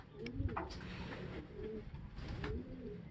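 Soft, throaty cooing comes from a blue-ringed homing pigeon returned after four months away, repeated in low rolling bursts nearby, quiet, with light shuffling in the background.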